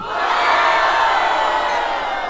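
A loud crowd at a Brazilian freestyle rap battle cheers and shouts together in a sustained roar of voices and whoops, close and energetic, for a couple of seconds.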